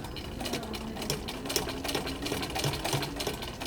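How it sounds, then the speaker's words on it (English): Sewing machine stitching elastic into the pleats of a fabric face mask, a steady rapid mechanical whir with dense needle ticks, close and continuous, briefly pausing and restarting as it reverses a few stitches. "you're going to sew a couple of stitches forward, a couple back, and then just down all the way across the pleats"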